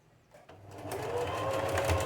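A sewing machine stitches a fabric pouch, its motor running up after a few soft starts into a steady, close whirring hum that holds through to the end.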